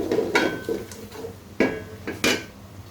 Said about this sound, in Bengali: খুবই ভালো করে এটাকে নেড়ে নিচ্ছি